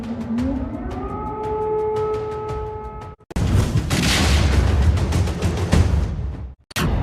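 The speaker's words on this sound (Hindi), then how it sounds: "कीव शहर पर हवाई हमले की आशंका के चलते रुक रुक कर सायरन बज रहे हैं।" An air raid siren sounds across Kyiv, its rising wail holding steady in layered tones for about three seconds before cutting out. A loud, broad rumbling roar then fills the rest of the clip, with no talking.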